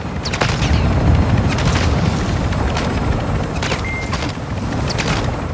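Loud combat in a Call of Duty game brings booming gunfire with scattered sharp shots and bursts over a heavy low rumble, close and continuous.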